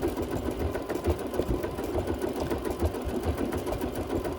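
A sewing machine with a yellow bobbin case stitches wool in a steady, continuous mechanical whir with a fast, even needle rhythm, close and unbroken throughout.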